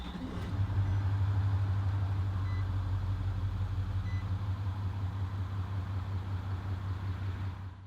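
A 2016 Nissan Titan XD SL pickup starts with a push button; the engine catches abruptly and settles into a steady, deep, close idle rumble that holds to the end, with no speech.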